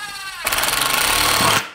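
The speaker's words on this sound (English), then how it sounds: "you can drill from the top" A power drill bores into the braces of a catapult, with a loud, harsh whirring burst lasting about a second after a brief quieter lead-in. It stops abruptly.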